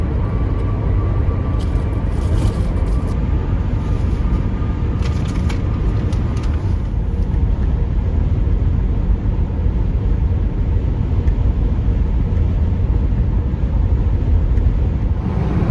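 An RV rolling down a highway at night, heard from inside as a constant loud road rumble and engine drone with a few faint rattles near the start.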